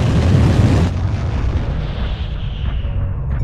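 Heavy weapon fire slams into a mech in MechWarrior Online as a loud, booming explosive impact, then a rumbling, slowly fading roar follows, with no voices over it.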